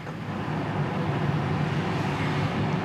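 A 1979 Pontiac Firebird Red Bird Edition idling steadily, a smooth low engine rumble that holds even and unbroken throughout with no talk over it.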